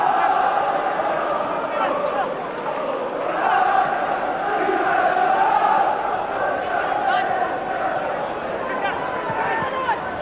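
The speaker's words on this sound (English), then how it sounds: "the Hearts crowd immediately liking the enthusiastic start by the home side" A home crowd at a Hearts football match cheers and roars in a steady, rolling swell of massed voices that rises and falls. A commentator talks over it.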